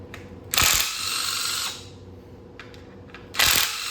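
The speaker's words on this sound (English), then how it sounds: "Let's pull all these bolts." A hand ratchet clicking rapidly while loosening timing chain cover bolts on a 2013 Ford Taurus SHO engine, two close, loud bursts of ratcheting separated by a quieter whirring stretch and faint taps.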